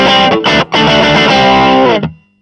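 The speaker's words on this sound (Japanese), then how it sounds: "ナチュラルオーバードライブ。" An electric guitar played through a BOSS GT-1 multi-effects unit on a natural overdrive setting rings out loud and close, a sustained distorted chord with a brief gap and a quick re-strike before it decays to silence.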